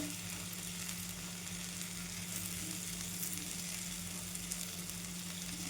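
Wheat flour breakfast frying in oil in a pan, a continuous even sizzle with a faint low hum, steady and close with no talking.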